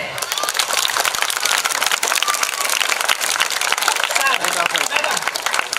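An audience at a Tamil comedy speech breaks into dense, steady clapping that fills the room evenly from start to finish, with a faint voice or two mixed into the crowd.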